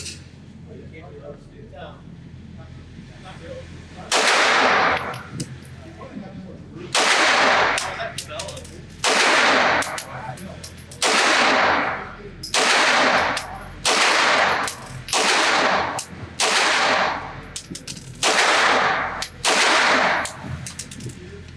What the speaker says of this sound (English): I'm going to try to get it zeroed, then put a bunch of rounds down range